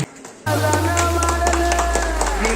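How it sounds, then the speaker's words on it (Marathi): An audience claps to welcome guests at a joint jayanti celebration. Dense applause starts abruptly and continues steadily over a constant tonal hum, likely music. "कृपया टाळ्या वाजवून त्यांचे स्वागत करायचे"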